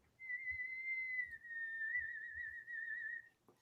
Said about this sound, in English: I'm better than my wife at whistling,